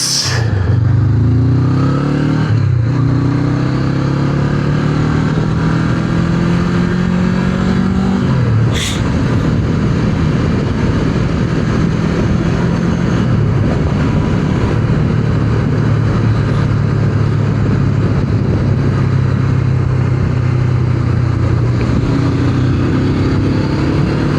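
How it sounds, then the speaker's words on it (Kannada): A Honda NX500 parallel-twin motorcycle pulls hard at full throttle, its loud close engine note climbing through several gear changes with brief dips between, then holding a steady high drone with wind noise and no talk. "ಈಗ we can enjoy the full throttle performance."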